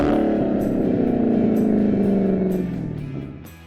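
MBRP aftermarket exhaust on a car revving, a loud sustained engine note held steady then falling away as the revs drop, heard alone without talk.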